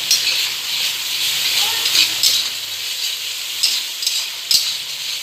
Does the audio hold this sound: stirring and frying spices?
yes